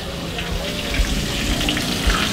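Water pours steadily in a home kitchen while fried rice with chicken is being cooked, a continuous splashing wash that runs throughout, close and fairly loud, with faint voices in the background.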